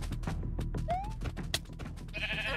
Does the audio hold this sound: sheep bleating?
yes